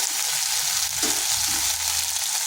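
Spice paste for an elephant foot yam curry sizzles steadily in a pan, a continuous frying hiss with a brief stir near the middle, close and fairly loud with no voices.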